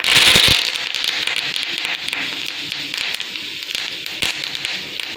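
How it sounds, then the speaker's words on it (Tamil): Mustard seeds and curry leaves crackle and pop in hot oil while tempering for onion chutney, a dense close sizzle with scattered sharp pops, loudest at the start and then steady. "எண்ணெய் சூடான கடுகும் கருவேப்பிலையும் போட்டு தாளிச்சிருங்க."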